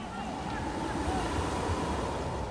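Ocean surf rolls steadily over a sand strip on an eroding Arctic coast at Kivalina, making a continuous loud wash with wind buffeting the microphone and no distinct individual wave breaks.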